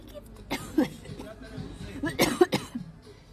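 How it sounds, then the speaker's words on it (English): A couple of bursts of coughing, close and moderately loud, with some voiced throat sounds between them. "it makes me cough."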